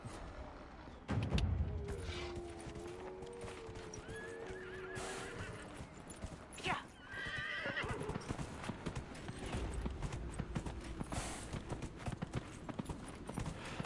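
Rhythmic clip-clop of horse hooves runs throughout, with a horse neighing and whinnying early on over steady game ambience in Dragon Age: Inquisition.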